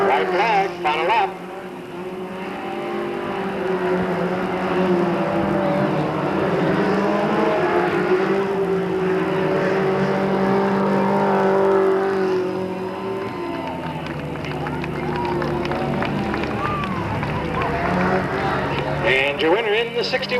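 Race cars at a speedway on the final lap, a loud continuous engine roar that swells and fades as the field passes, with an announcer talking over it and crowd noise behind.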